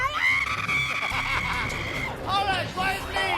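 Several people shout and scream together at once on a game show, a loud, excited clamour of high-pitched voices that keeps going without a break.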